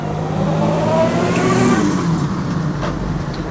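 A Jaguar XK120 classic car drives past at a car show, its engine revving loudly and close by in a steady drone that eases slightly as it passes.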